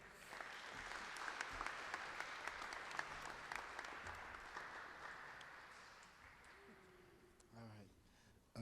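Warm applause from a graduation crowd greets the next speaker, a dense, steady wash of clapping that fades out before a voice begins speaking at the end.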